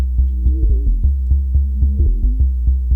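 A deep, throbbing drum and bass bass line pulses in a steady, driving rhythm with short repeated notes, loud and up front with nothing else playing.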